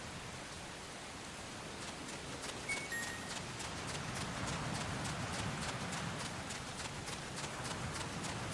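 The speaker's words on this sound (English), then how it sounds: "Remember that your footsteps are louder when running, making you easier to discover." Running footsteps in the video game Metal Gear Solid Peace Walker: a quick, even series of crisp steps that keeps a steady rhythm and stays fairly loud for the whole stretch.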